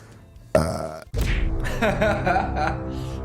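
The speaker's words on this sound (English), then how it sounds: "Burping Finnish YouTuber." A short burp followed by a long, loud, drawn-out belch, close and unbroken.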